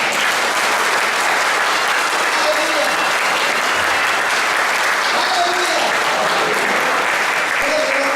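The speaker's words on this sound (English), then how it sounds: "give a good clap." A church congregation claps loudly and steadily at a healing service, a dense unbroken wash of applause lasting throughout, with a voice calling out over it.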